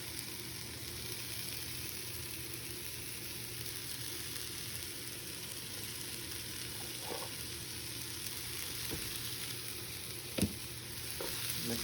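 Onions and garlic frying in a pan on high heat for a homemade chile de arbol salsa, giving a steady, even sizzle throughout with a couple of faint stirring clicks and one sharp tap near the end.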